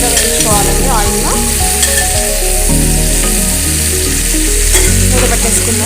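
Eggplant frying in oil for a vankaya pachadi, loud, close sizzling overlaid with a spoon's repeated stirring and scraping against the pan in an irregular rhythm, with no speech.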